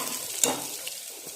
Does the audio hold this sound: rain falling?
no